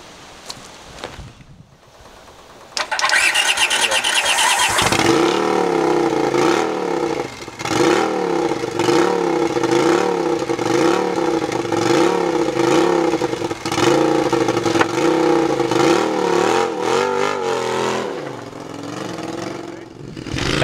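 A Turbo CX500 mini hot rod engine cranks and catches, then revs in a steady series of rising and falling bursts, loud and close, before settling near the end; no talk is heard.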